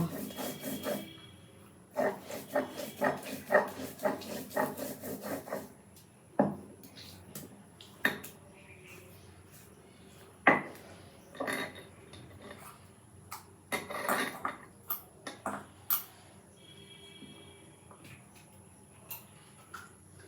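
Ground mustard paste being scraped off a grinding stone into a bowl, close irregular rasping and scraping strokes with knocks and pauses between bursts.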